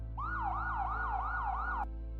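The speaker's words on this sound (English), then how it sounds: "I heard the sound of sirens in the distance." A wailing siren rises and falls in a steady repeating cycle over a low constant hum, then cuts off abruptly.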